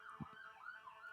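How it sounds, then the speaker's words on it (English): Wailing emergency siren sweeping up and down in pitch, steady and moderately loud for the whole moment, with a brief low thump near the start. "Sirens."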